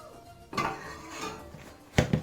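Plain flour and salt go into a bowl, with a soft rustle followed by two sharp clinks of a utensil or container against the bowl, brief and close, with no talking.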